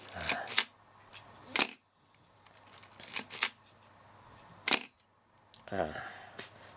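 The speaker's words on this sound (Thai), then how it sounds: "คือถึงแม้จะไม่มีแบตเตอรี่ก็สามารถตั้งไว้ที่ ชัตเตอร์แมชชีนิกตัวนี้ได้ กล้องก็จะสามารถใช้ได้เหมือนกัน" A Pentax ME film camera's mechanical shutter fires without a battery, giving several sharp, crisp clacks, each a quick double snap, spaced out over a few seconds in a quiet room at close range.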